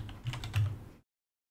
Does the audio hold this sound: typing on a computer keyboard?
yes